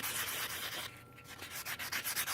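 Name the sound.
sanding metal jewelry dangles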